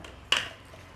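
A mixer-grinder jar is washed while making quick kuska biryani, giving one sharp metallic clink that rings briefly and then fades into quiet.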